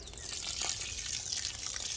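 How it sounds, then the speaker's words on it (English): Homemade liquid garden fertilizer, mixed from four ingredients, pours as a drench onto the base of garden plants, making a steady close trickling splash with no talk. "So I'm just pour it at the base."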